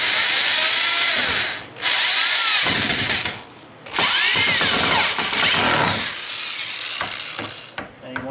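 Power drill driving drywall screws into a toe board: loud, close whirring bursts that rise and fall in pitch, stopping briefly twice between screws before the motor winds down at the end.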